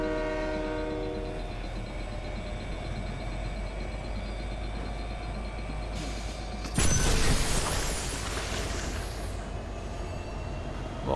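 A train in the Fortnite video game slows as it pulls into a station, with a steady rumbling drone and tonal hum, then a sudden louder burst of noisy hissing and clatter near the end.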